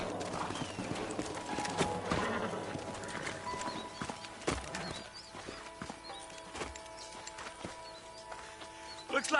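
Horses' hooves clip-clop steadily on the ground in the Red Dead Redemption video game, with an occasional whinny and birdsong behind, close and fairly loud, while voices talk over it.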